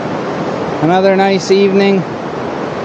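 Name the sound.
Pacific Ocean waves at Long Beach, Tofino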